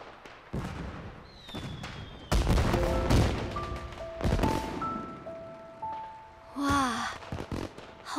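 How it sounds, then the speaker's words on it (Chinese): Fireworks in an ancient-city night scene of a period drama, popping and crackling in several sharp bursts amid whistling tones and music, with a brief voice near the end. "烟花"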